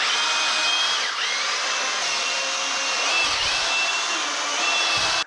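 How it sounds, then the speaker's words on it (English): Power drill whirring at low speed while mixing premix drywall mud in a pail, a continuous close motor whine with faint scraping and no talk. "I'm using my drill on the lower speed setting so I don't fling the stuff everywhere."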